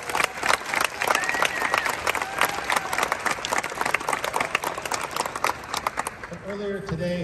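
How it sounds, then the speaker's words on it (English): An outdoor audience applauds a high school wind band at a spring concert, steady clapping and some cheering with a voice speaking near the end. "Another round of applause for these kids."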